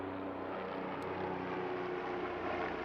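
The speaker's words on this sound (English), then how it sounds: "It's a freaking Black Hawk." A UH-60 Black Hawk helicopter passes overhead at an outdoor shooting range, its rotor and engine making a steady, loud broadband drone that fills the whole stretch with no break.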